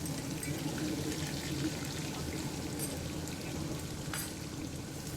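Onion paste fries in hot oil with a steady, even hiss and crackle that holds at one level throughout, close and unbroken, with no voices.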